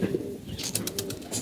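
Zeera-neck pigeons cooing in a loft during their moult, soft low coos running under bright high chirps and faint fluttering, close and fairly quiet.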